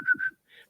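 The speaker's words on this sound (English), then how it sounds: "I'll whistle," A person whistles a short two-note call to summon farm animals at feeding time, close and clear, followed by a fainter, brief tonal sound.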